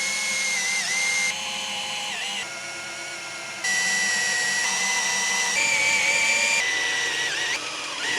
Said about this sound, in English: these holes that we're about to drill.